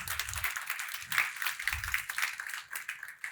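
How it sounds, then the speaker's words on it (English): A conference audience applauds the event organizer, a scattered, fairly distant round of clapping that swells and fades over a few seconds. "a big round of applause for Barry for putting it on"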